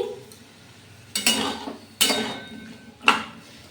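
Spoon scraping and knocking in a pan while potatoes and raw banana are stirred with poppy-seed paste and green chillies, three distinct clinking strokes over a quiet background.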